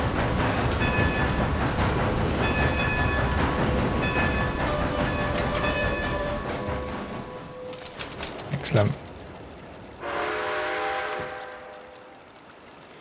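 A steam train pulls into a station in the video game Red Dead Redemption 2, with a rumble of rail noise, then a short whistle-like burst and a hiss near the end. Someone talks over it.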